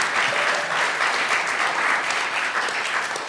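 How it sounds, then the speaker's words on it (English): An audience at a college music conversation event applauds with steady, dense clapping that holds at an even level for a few seconds. "Let's give them all a round of applause"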